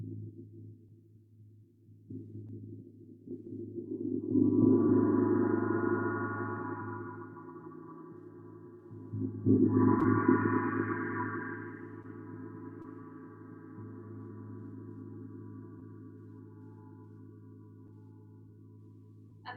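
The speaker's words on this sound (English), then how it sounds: "This is a moon gong and it's tuned to the frequency of the moon." A moon gong tuned to the moon's frequency is struck twice several seconds apart, each stroke swelling into a deep, shimmering wash that slowly fades under a low sustained hum, with no talking.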